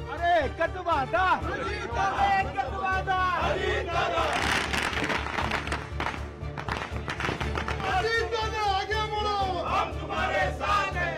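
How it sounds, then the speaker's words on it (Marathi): Crowd of Ajit Pawar faction party supporters cheering loudly in celebration after an Election Commission ruling, a dense roar of voices and shouts rising in waves throughout, heard alongside a news narrator speaking. "निवडणूक आयोगाच्या निकालानंतर अजित पवार गटानं जोरदार जल्लोष केला"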